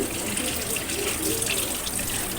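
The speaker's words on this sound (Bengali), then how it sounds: "এখানে প্রথমে আমি ইঁচড়গুলোকে ভালোভাবে ধুয়ে নিচ্ছি" Running water gushes steadily from a tap over young jackfruit being washed, a continuous splashing wash with no voices.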